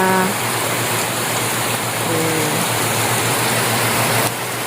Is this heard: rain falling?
yes